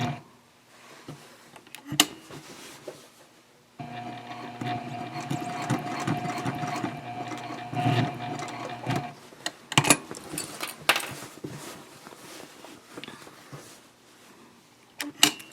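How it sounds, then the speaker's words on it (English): Sewing machine stitching a small box around the webbing of an eco-friendly shopping bag, a steady whirring run of about five seconds framed by clicks and handling noises. "I'm going to sew a little box"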